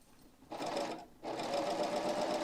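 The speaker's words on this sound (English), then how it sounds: "we'll just kind of go ahead and sew a sample out" A serger sewing machine stitching a fabric sample runs with a steady mechanical whir, pausing briefly before starting up again loud and close.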